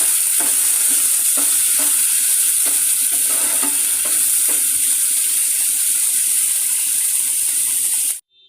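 Capsicum and potato fry stirred in a pan after salt and turmeric go in, a steady sizzle under repeated scraping strokes of the spoon, close and loud, with no talking.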